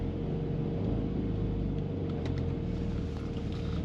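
A 2013 Porsche 911 Carrera 4S Cabriolet with a PDK dual-clutch gearbox drives along, giving a steady low engine and road rumble heard from inside the car, with no talk.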